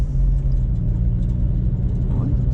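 A truck on a road rumbles steadily, close and loud, for the whole stretch.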